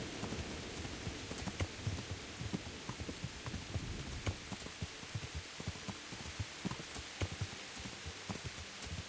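Rain in the video game Kingdom Come patters steadily with scattered louder drops and thuds tapping on a surface, a quiet continuous shower in the background.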